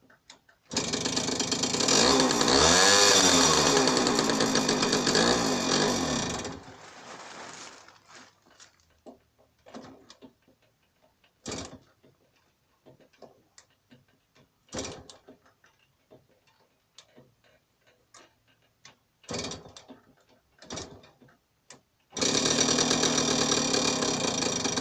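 Small two-stroke engine of a 1965 Jawa Pionyr Typ 05 scooter running loud and close with a revving, wavering note, then cut off, leaving scattered clicks and knocks before it fires and runs again.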